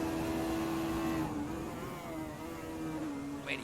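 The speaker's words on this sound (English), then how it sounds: "Really revving the engine" A race car engine in a sim racing game at the Red Bull Ring, a loud sustained drone with a steady pitch that dips and wavers slightly as the revs shift, heard alone.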